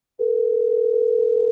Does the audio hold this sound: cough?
no